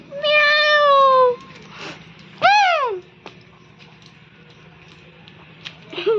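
A cat meows twice, a long drawn-out cry followed by a shorter rising and falling one, fairly close, with quiet background sounds and a faint thump afterward.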